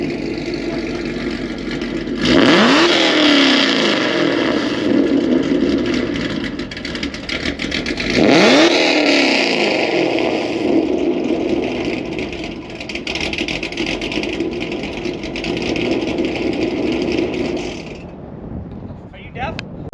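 A car fitted with an FBO E85 exhaust, H-pipe or X-pipe, idles with a deep burble and revs hard twice in loud, rising sweeps before settling back to a steady idle, close by with people talking around it.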